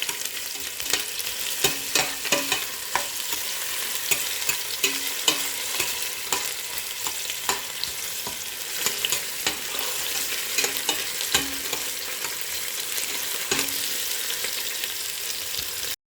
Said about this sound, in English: I have to put my onion. And I'll fry it for about 1 minute.